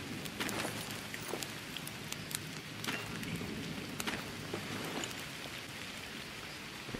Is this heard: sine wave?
no